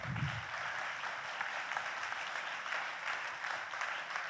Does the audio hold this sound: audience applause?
yes